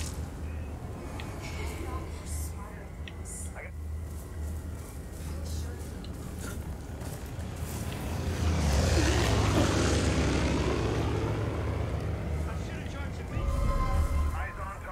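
An attacking propeller plane in Far Cry 5 drones overhead, its engine swelling loudly as it sweeps past and then fading into steady game noise.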